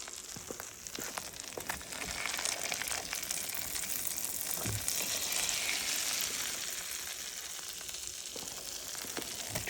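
Venison steaks laid into a pan of hot butter, sizzling and frying: a steady, close crackling hiss with occasional pops and spits, continuous throughout without talk.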